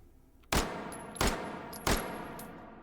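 Uzi Micro 9x19 pistol firing in the H3VR virtual reality shooter, three sharp loud single shots spaced about two-thirds of a second apart, each followed by a short decaying ring, no talk.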